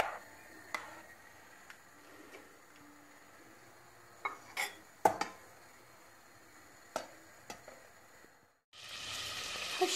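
Butter and a little olive oil in a pan make a soft, steady sizzle, broken by scattered clinks and scrapes of a utensil, before a loud burst of hissing near the end.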